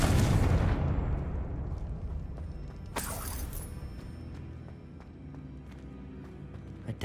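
Confringo fire spell in Hogwarts Legacy bursts into a loud booming explosion at the start, then rumbles and decays over several seconds, with a sharp crackle partway through and debris settling, no voices.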